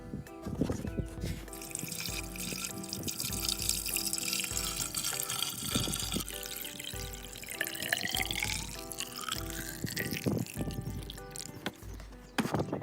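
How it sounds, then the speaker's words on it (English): Engine oil drains from an Acura MDX during an oil change, a steady continuous trickle and splash into a catch pan, close by, running unbroken throughout with no talk. "Cracked it loose, it's draining, looking good."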